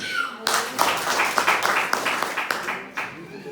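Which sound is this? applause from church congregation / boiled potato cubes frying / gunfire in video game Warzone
applause from church congregation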